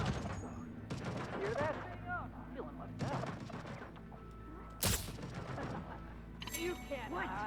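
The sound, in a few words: hacked turret shooting at enemies, from video game Deathloop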